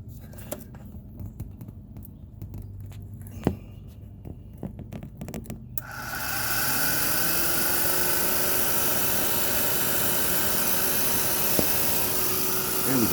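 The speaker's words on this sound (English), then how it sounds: "as you can hear, the fan is constantly blowing" The cooling fan on a Can-Am Outlander Max ATV kicks on partway through and then blows steadily, a loud close broadband whoosh with a faint rising whine, after some quiet handling noises.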